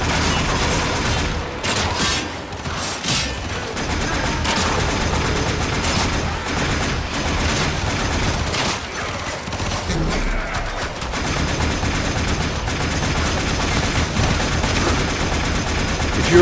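Gunfire in the Warframe video game: loud, dense bursts of rapid automatic shots and booms that continue almost nonstop, with voices talking over the battle.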